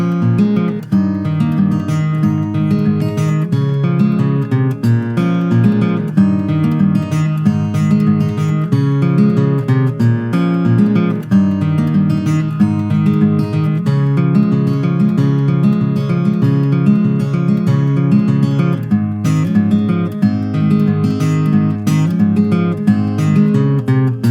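Close acoustic guitar strums the chorus and intro chords of a song in a continuous, even rhythm of full chords throughout, alone and without voices.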